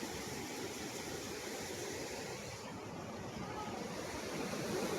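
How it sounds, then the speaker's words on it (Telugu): Water overflowing from a full pond rushes in a dense, steady roar, broadband and continuous, with wind buffeting the microphone. "దొబ్బుతుంది నీళ్ళు"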